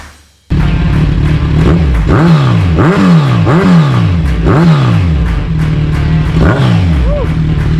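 A Kawasaki Z1 1000cc motorcycle engine idles loudly up close, then is blipped through a series of quick rising-and-falling revs in a regular rhythm, with a rumbling exhaust between throttle stabs.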